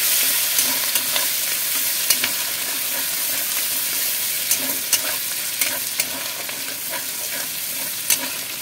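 Chopped onions with green chilli, garlic and ginger fry in a pan for paneer dalna, giving a steady, close hiss of sizzling oil broken by small pops and the light scrape of stirring.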